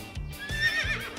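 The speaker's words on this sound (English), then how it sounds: "Help, a horse is chasing me." A cartoon horse whinnies, a near, shrill, quavering neigh rising and wavering over a second, with soft rhythmic thumps beneath it and no speech.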